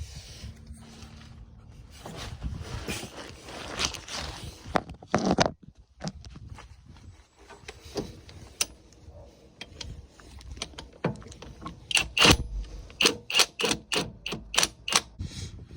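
Loctite-coated bolts go back onto a BMW E46 differential, with metallic clinks, rattles and a fast series of ratchet-like clicks near the end, close and at moderate volume.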